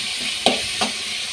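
Onion and tomato sautéing in a pan for kurma, a close, dense sizzle with two distinct scraping stirs of a spatula over the constant hiss.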